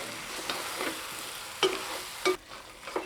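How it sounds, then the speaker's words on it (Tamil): Mushrooms sauté in a pan with a gentle sizzle and occasional scraping stirs of a utensil, close by and without talk. "இப்போ ஒரு 2 நிமிஷம் நல்லா வதக்கி விட்டுக்கலாங்க."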